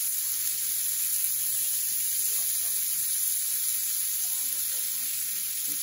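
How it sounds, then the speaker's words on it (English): Vegetables sauté in a pan for dirty rice, giving a steady, even sizzle and hiss that runs unbroken from start to finish at a moderate, close level. "I'm going to add my vegetables in. And you just want to saute them for a little bit"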